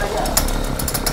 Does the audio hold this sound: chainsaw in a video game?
yes